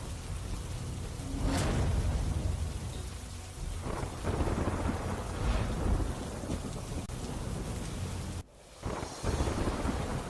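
Monsoon thunderstorm with steady heavy rain pattering on surfaces, broken by several sharp thunder cracks and rolling rumbles, plus occasional wind buffeting on the microphone; no voices.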